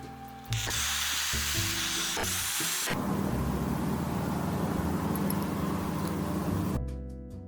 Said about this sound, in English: So I take drill with a very small bit for the eye.